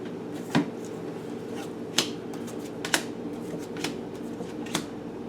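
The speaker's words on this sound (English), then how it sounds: "What do we have with the tarot cards here for you?" Tarot cards are shuffled during a reading, giving a few sharp riffling flutters spaced about a second apart. Each burst is crisp and close over a quiet room hum, with no talking.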